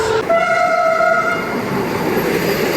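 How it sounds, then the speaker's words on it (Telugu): A WAP-class electric locomotive passes with a train near a station, opening with a sustained tonal horn blast over a loud, continuous roar of rolling wheels and carriages. "బ్యూటిఫుల్ వ్యాప్ సౌండ్ లోకోమోటివ్ ఉంది చూసారా?"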